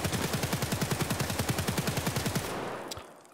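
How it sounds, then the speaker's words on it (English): Modded rifle firing full auto at a target in Escape from Tarkov, a rapid, evenly spaced burst of about twenty-five shots lasting over two seconds, then a ringing tail, with no talk. "I'm just gonna full auto this thing and I'm not going to I'm just gonna aim at that target there"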